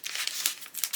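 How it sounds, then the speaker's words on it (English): Brief close crinkle of plastic wrapping being opened off a makeup brush, a quick burst of bright rustling and crackling lasting about a second, with no talk. "I've got to open up my brush, so sorry about the rustling. I might unwrap it."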